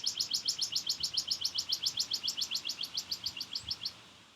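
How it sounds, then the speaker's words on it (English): Birds chirp outdoors in a rapid, even string of about two dozen high, bright notes that ends abruptly, with no talking. "These birds are chirping."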